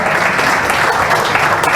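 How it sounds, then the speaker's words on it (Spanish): A church congregation applauds during a worship service, giving a dense, steady round of clapping that holds at an even level for about two seconds, with no talking over it. "Den un aplauso a Dios."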